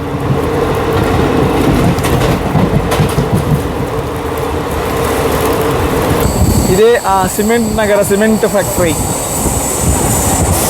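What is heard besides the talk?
train running, wheels on turns, Guntakal–Markapur line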